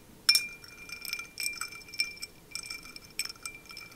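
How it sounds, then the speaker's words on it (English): Ice cubes clinking in a glass jar of water, a series of faint, bright glassy clinks in irregular clusters, close and quiet with no talk. "So I've put some water with some ice cubes in a jar."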